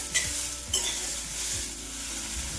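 Sprouted mung beans frying on full flame in a pan, a steady loud sizzle broken by two sharp scrapes of a spoon against the pan early on, with no talk.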